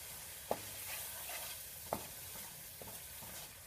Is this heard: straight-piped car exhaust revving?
no